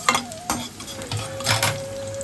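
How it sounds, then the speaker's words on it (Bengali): Fried bitter gourd stirred and lifted out of a pan with a utensil, soft sizzling frying under a few scraping clinks, close and moderately loud. "উচ্ছেগুলোকে তুলে নিচ্ছি।"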